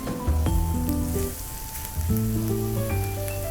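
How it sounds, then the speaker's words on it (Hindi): Chopped onions for kadai paneer sizzle steadily in a pan while being stirred, a continuous frying hiss with a sustained tonal hum in the background. "सो अब हम इसको बस थोड़ी सी देर के लिए अराउंड 2 to 3 मिनट्स हम इसको चलाते रहेंगे"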